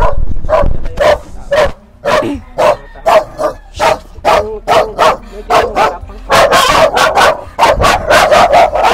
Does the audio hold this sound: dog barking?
yes